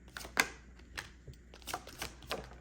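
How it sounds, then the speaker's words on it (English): A Psychic Oracle card deck being shuffled close up, quiet, irregular papery riffles and soft taps in short bursts with brief pauses between them. "going to go ahead and start shuffling my Psychic Oracle deck"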